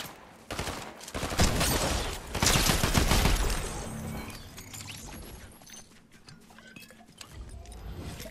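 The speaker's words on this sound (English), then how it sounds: "Oh, we're getting shot at." Gunfire crackles in a Fortnite match, a dense fusillade of shots and impacts for a few seconds that fades into quieter game ambience with scattered clinks.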